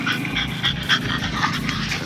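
A dog pants steadily and close by, quick rhythmic breaths running through the whole moment with a faint outdoor background.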